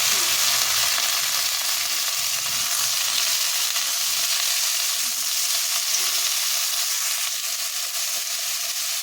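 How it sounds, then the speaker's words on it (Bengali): Large pieces of ridge gourd fry in hot oil with a pinch of nigella seeds, giving a loud, steady, close-up sizzle with a dense crackle that holds evenly throughout, with no voices. "তারপর এভাবে বড় বড় টুকরো করে কেটে রাখা ঝিঙে দিয়ে দিচ্ছি"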